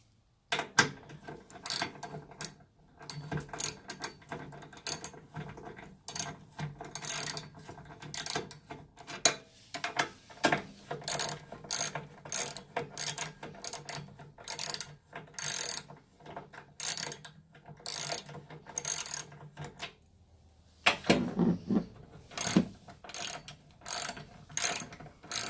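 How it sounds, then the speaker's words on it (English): A ratchet wrench tightens the seat bolts while a swivel seat is installed in a Sprinter van, giving repeated sharp clicking runs in bursts with short pauses between them, close and clear, with no talking. "now we're going to tighten them up a little bit before we get to the front bolts"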